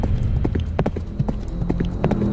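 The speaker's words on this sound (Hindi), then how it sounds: "सभी घोड़े स्तबल से बाहर आ गए। वो खेत से बाहर भाग रहे थे।" Horses run out of a stable, their hooves clip-clopping in a fast, dense patter of many beats over a steady low rumble, close and loud throughout.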